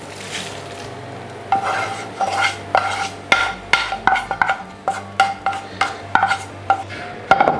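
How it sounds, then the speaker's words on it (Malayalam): A spoon stirs beaten rice mixed with fried cashews and sesame in a pan, giving steady rhythmic scrapes and clinks against the metal, close and clear without any speech. "ഒന്നുകൂടെ ഒന്ന് നന്നായിട്ട് മിക്സ് ആക്കി കൊടുക്കുക"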